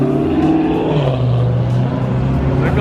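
Cars rev and accelerate hard at the start of a street race, a loud, close engine roar climbing in pitch, with voices faintly mixed in.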